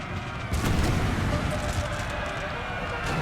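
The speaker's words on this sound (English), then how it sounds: "Massive shots of canister going into the Russian lines" Canister shot artillery fires into Russian lines during a Napoleon: Total War battle, a dense, continuous roar of cannon and volley fire with a heavier burst around the half-second mark. The din stays loud and unbroken throughout.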